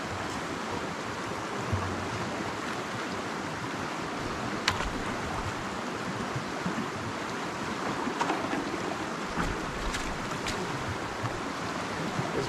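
Dirty water poured through a shirt used as a filter gives a continuous, even splashing trickle, fairly quiet and steady throughout, with a few small knocks and no voices.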